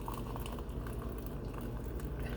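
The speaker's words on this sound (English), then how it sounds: "I'm going to pour my tea out of here." Hot tea poured from a pot through a strainer, a steady close trickling and pattering splash that runs evenly from start to finish.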